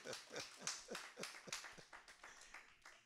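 A church congregation claps for three birthday celebrants, a rhythmic run of fairly even hand claps heard at a distance and faint, without talk over it.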